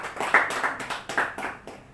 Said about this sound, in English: we can have some claps for it